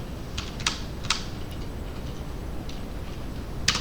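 A few scattered keystrokes on a computer keyboard, clicking singly and in small clusters at an irregular pace over a low, steady room hum, fairly close and moderately quiet.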